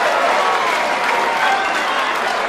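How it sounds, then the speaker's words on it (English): Audience at the 2011 Darts World Championship applauding, a sustained, dense burst of clapping from a large crowd, loud and continuous. "Amy applauds her heart out."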